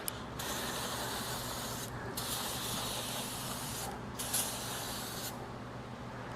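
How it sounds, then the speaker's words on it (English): An aerosol can of brake cleaner sprays in three long hissing bursts with short breaks between them, close and steady, in a garage setting while a 2001 Pontiac Trans Am engine is being assembled. "Why is every brake clean can almost empty?"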